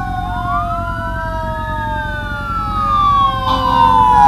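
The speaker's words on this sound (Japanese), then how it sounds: "もう今度も消防車かよ、おい。" A fire truck's wailing siren sweeps up and down in pitch, loud and close, growing stronger as the vehicle approaches on a street in the United States.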